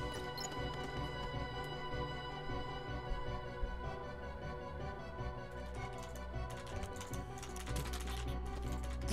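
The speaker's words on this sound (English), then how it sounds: "He looks like he's just slapping his palms against the keyboard." Palms slapping a computer keyboard in the video game Kingdom Hearts II Final Mix, a dense, continuous clatter of key hits heard over steady game music and ambience.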